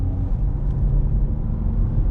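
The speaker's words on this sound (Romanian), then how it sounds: "Și motorul, deși se aude a 3 pistoane," BMW 1.5-litre three-cylinder diesel running while driving, heard from inside as a steady low engine rumble with road noise, fairly quiet and continuous with no talk.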